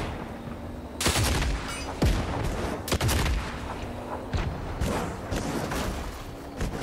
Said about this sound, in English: Yes, we have the cannon now.